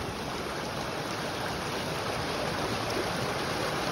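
Cold, clear stream water flows steadily in Pahalgam, Kashmir, a constant close rushing wash with no pauses and no voices.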